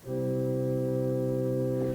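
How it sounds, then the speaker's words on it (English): A sustained pipe organ chord on a soft flute stop, steady and mellow, held for about two seconds before releasing. "And then you have flute sounds that sound like this."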